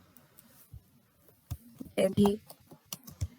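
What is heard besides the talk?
typing on a computer keyboard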